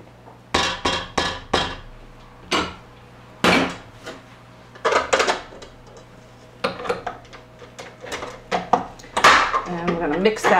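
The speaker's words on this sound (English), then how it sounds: "And I'm gonna mix that up until it forms a nice dough" A spoon works candied cherries into cookie dough in a bowl, making irregular clattering knocks and scrapes against the bowl, close and sharp with short pauses between strokes.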